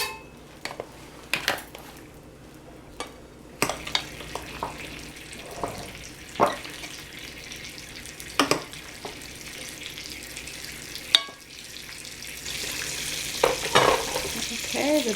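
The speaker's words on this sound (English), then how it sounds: "the butter is nice and bubbly" Margarine melting and bubbling in an aebleskiver pan, a soft continuous fizzing sizzle with scattered metallic clicks and clinks of the pan, the hiss growing brighter toward the end.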